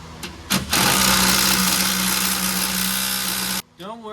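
An impact wrench with a 22 foot-pound setting tightens a tie rod end on a GTO's suspension, a loud continuous whirring buzz lasting about three seconds after a couple of short bursts, then cutting off as a voice starts.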